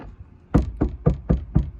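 Knuckles rapping five times in a steady rhythm on an untreated Chevrolet Silverado door panel without sound deadening, each knock close, loud and hollow with a short ringing decay.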